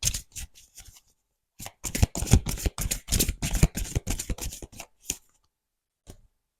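Oracle cards shuffled by hand before a reading, a close run of crisp riffling flutters and soft slaps in irregular bursts, pausing briefly midway and ending with a last faint shuffle.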